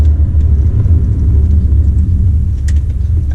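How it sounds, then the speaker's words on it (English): A Volkswagen or Audi car drives along a road gaining speed, its steady low engine drone and road rumble filling the whole stretch at close range with no voices. "We'll get the car up to speed, and then what we're going to do is just going to hit the brakes."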